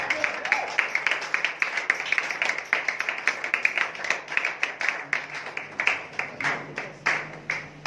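Church congregation claps in a steady rhythmic beat to acclaim the Lord, sharp regular handclaps at moderate loudness with a faint murmur of voices beneath.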